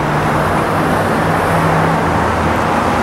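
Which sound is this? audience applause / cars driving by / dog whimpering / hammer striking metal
cars driving by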